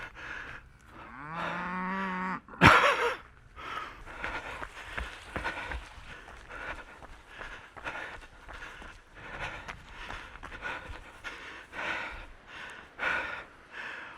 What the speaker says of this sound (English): Cows are all bellowing at something.